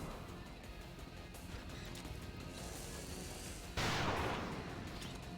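Gunfire in the XCOM game Long War of the Chosen, aimed at an enemy gunner: a steady rumbling battle bed breaks into a loud, sudden blast of a shot near the end.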